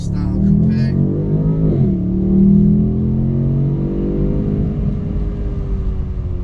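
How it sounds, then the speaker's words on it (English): A 2019 BMW M850i xDrive convertible's engine and exhaust hum loud and close, revs swelling briefly, then easing back into a steady cruising drone. "This is the brand new 2019 M850 X-Drive."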